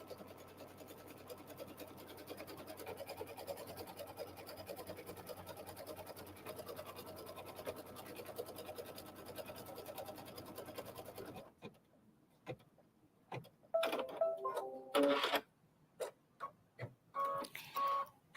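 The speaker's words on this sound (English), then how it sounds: "This is going to stitch the placement line for my leather" A sewing machine stitching a placement line for leather in black thread, running steadily and fairly quietly for about eleven seconds, then stopping, with a few scattered handling clicks and bumps afterward.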